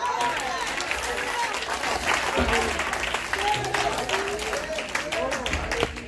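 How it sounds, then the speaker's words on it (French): Sustained applause from a crowd at a missionary revival gathering, dense and continuous, with voices talking and calling out over the clapping. "Applaudissez, applaudissez un peu fort."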